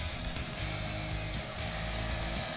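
A radio-controlled Bell 206 model helicopter flies an automatic figure-eight, its rotor and motor making a steady, close, buzzing whine with a throbbing low hum that holds evenly throughout.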